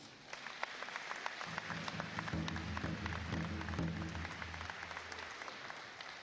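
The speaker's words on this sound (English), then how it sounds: "Would you give them a round of applause, please?" An audience at a college graduation ceremony applauds steadily, a crowd's clapping rising and holding for several seconds before easing off, heard from a little distance.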